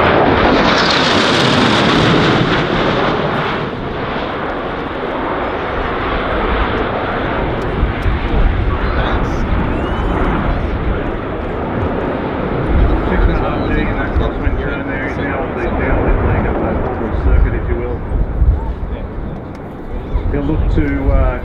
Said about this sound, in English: flying the Joint Strike Fighter